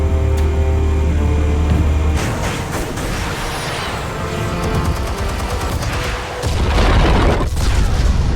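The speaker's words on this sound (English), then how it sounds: "Explosives armed. Fire when ready." Armed explosives go off in the Batman Telltale Series game: a loud booming blast and a rumbling, crackling series of detonations, with a brief lull before another heavy surge of explosions.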